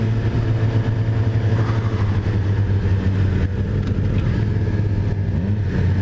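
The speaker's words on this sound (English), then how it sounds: "That's downshifting in the first gear." A 2018 Suzuki GSX-R750 motorcycle engine rumbles close and loud while downshifting into first gear, a steady low growl with shifting revs and wind noise.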